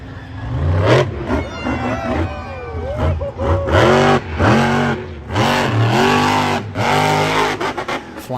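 The El Toro Loco monster truck at a Monster Jam show in Atlanta, 2022, revs its engine in repeated loud surges that rise and fall, with arena noise mixed in.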